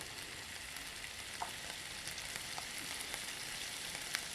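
Chopped carrots and mixed vegetables frying in a pan for rice-flour noodles, a steady close hiss of sizzling oil with a few faint clinks of stirring.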